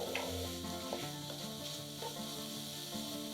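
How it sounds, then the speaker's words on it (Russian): Button mushrooms fry in a hot pan over high heat, a continuous close sizzle with small crackles and a few stirring scrapes, and no voices. "На горячую сковороду кладем подготовленные шампиньоны. Жарим на большом огне, пока не испарится вся жидкость."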